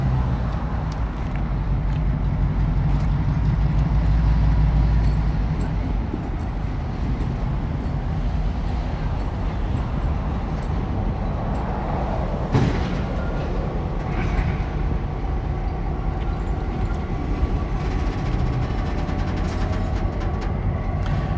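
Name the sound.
SD7 locomotive approaching during switching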